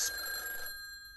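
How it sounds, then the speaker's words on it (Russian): A telephone rings in the indie horror video game Bequest: a bright, steady electronic ring with sustained tones, which cuts off abruptly after the first half-second, leaving a faint hum. "звонят, короче, трубки бросают"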